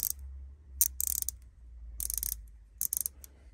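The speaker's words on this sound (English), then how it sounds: "You've got a mini ratchet." A mini ratchet spanner clicks in quick close-up bursts, each run a crisp rattle of pawl ticks separated by short pauses, with no voices present.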